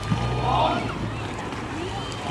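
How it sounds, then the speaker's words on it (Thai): A racing longboat comes down the river during rowing practice in Akat Amnuai, Sakon Nakhon, heard as a steady wash of water and hull noise with wind buffeting the microphone throughout. "ดูเรือลงมาครับ"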